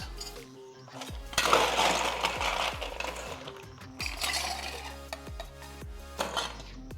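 A Vesper cocktail stirred at a bar with a bar spoon, giving busy clinking and scraping of ice against the mixing glass, with sharp knocks at intervals and a short pause, close and fairly loud.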